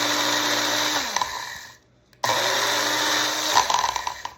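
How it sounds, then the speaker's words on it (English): Magic Bullet blender grinding dry rice into flour, a loud high-pitched motor whine with rattling grains, running in two bursts separated by a brief stop, close up, no talk. "you just grind it up and make your own flour"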